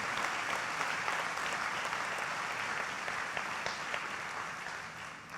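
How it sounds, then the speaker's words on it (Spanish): Congregation applauding at a church service, a steady dense wash of clapping from many hands that holds evenly throughout and eases slightly at the end. "Creo que merece un fuerte aplauso"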